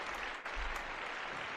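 Applause from a live audience greets a guest on a paranormal call-in show, a steady wash of clapping heard at a distance and fairly quiet, with a brief dip partway through.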